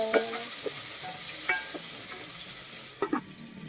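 Tomatoes and ginger being stirred in a frying pan, with a steady soft sizzle under repeated scraping and clinking strokes of a utensil against the pan, close by.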